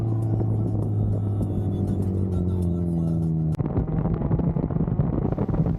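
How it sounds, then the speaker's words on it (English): Mazda Miata drift car engine heard from inside during a ride along, a loud droning rev that abruptly drops and turns rougher and grittier with a downshift into second, buffeted by wind noise. "downshifting into second, picking up speed as we get back down towards the pits"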